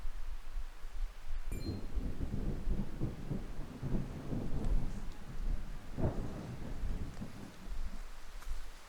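Thunder rumbles over steady rain in the video game Triangle Strategy, with a heavy roll swelling in the middle and fading toward the end, no talk over it.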